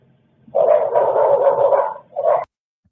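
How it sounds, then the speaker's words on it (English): A dog lets out a loud, close, drawn-out bark that runs for about a second and a half, then a brief pause and one shorter yelp, with nothing else audible around it. "Try to ignore the dog, of course."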